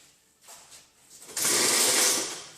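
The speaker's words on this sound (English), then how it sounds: "So I'm going to take the Dremel and I'm going to go through here and just cut that fairly deep, but not all the way through." A Dremel rotary tool cuts into the M-Tech II body kit of a 1989 BMW E30, starting as a quiet intermittent whir and then rising to a loud, steady high-pitched grinding.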